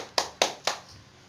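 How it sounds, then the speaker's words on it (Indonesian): Three sharp hand claps ring out in quick succession, close and bright, each decaying briefly before the next, at a small gathering. "Tepuk tangan dong untuk Bu Lili"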